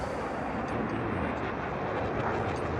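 The NASA HARV fighter jet flies a high-alpha demonstration at an airshow, its engines making a continuous broad roar that stays loud and steady, with no clear voices.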